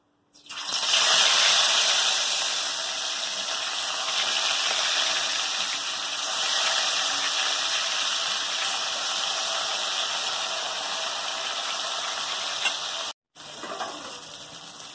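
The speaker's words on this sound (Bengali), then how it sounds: "এবার নুন হলুদ মাখিয়ে রাখা মাছগুলো ভেজে নেবো" Fish rubbed with salt and turmeric frying in hot mustard oil, a loud, continuous hissing sizzle that starts abruptly, holds steady and breaks off briefly near the end.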